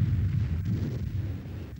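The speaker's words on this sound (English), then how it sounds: "impacted with the ground in a great explosion" A German V-1 flying bomb strikes the ground in a great explosion, heard as a loud, sustained, deep rumbling roar that fills the whole stretch without a break and with no voices.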